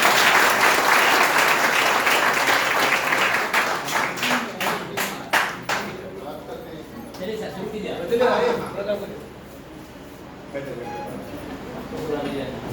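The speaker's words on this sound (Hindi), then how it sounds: "ऑनरेबल प्रिंसिपल सर अब हमारे साथ हैं, जोरदार तालियों के साथ इनका स्वागत है।" Loud applause at a B.Ed. department seminar in a college hall welcomes the principal, sharp claps thinning after about six seconds into murmuring voices and scattered talk.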